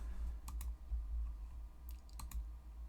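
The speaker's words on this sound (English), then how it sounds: "Now you can go ahead and start typing in here." Computer keyboard typing, two short pairs of quick clicky keystrokes separated by a pause, faint and close over a low background hum.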